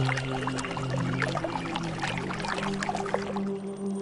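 In a Hindi cartoon, water is poured onto a tree in a continuous splashing stream that runs under steady background music.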